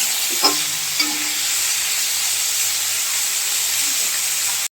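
Dried kachki fish frying in hot oil, a loud continuous sizzle with a couple of brief stirring clinks near the start, close and steady throughout.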